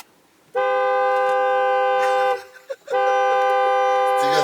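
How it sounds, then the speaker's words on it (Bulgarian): A car horn sounds twice up close, a long sustained honk of about two seconds, a brief gap, then a second long honk. "Пали, бибиткай."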